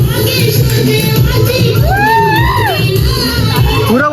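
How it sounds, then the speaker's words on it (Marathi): Loud party crowd at a birthday celebration at a farmhouse, cheering, shouting and whooping continuously, with children's voices and high squeals rising over the dense babble throughout. "फुल जल्लोष चालू आहे"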